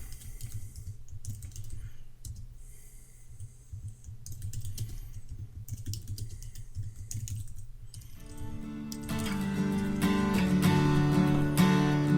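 Computer keyboard typing as text is entered into a Word 2016 document, a steady run of close, crisp key clicks with a low background hum, growing louder and busier toward the end.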